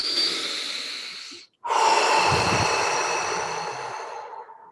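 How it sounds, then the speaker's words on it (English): Deep, steady breaths drawn into the belly during a guided breathing round, in through the nose and out through the mouth, one long airy breath close to the mic broken by a short pause. "So please breathe with me. 10 times deep in to the belly."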